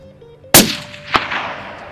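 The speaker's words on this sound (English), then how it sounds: "shooting off my knee like this, the rifle just recoils way too much" Rifle fired from a kneeling position at a wallaby along a fence line in a New Zealand valley: one sharp, loud crack with a long rolling echo, then a second fainter bang a moment later.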